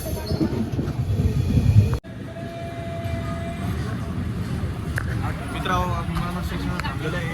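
A train rumbles closer along a railway track where repair work is under way, a steady heavy roar with metallic squeals rising, while people talk nearby.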